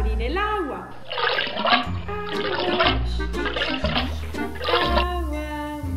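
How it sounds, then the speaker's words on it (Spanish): Water gushes from a tap into a bath, a rushing splashy flow heard under lively voices talking and singing. "Lo primero es abrir el agua."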